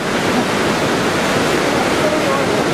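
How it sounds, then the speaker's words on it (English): Nooksack Falls roars as a steady, loud, broadband rush of falling water heard up close, unbroken throughout. "Let's go look at the waterfall."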